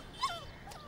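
A puppy lets out one short, faint whimpering yip, followed by a softer second whine, quiet against a low background hush.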